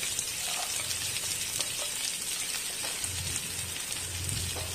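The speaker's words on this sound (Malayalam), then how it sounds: "ചെറിയ ഉള്ളി എണ്ണയിലേക്കിട്ട് കൊടുക്കുക." Small onions sautéing in hot oil for a Kerala prawn theeyal curry, a steady close sizzle and crackle of frying with scattered spitting pops throughout.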